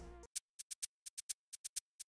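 A crisp electronic shaker ticks in a quick, syncopated pattern, short bright hits with varying loudness, following a brief low note at the start.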